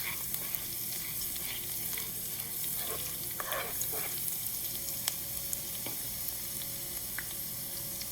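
Cumin seeds and chili browning in ghee in a pan, a dense, even crackling sizzle with occasional stirring taps and faint tonal whines throughout, nobody speaking.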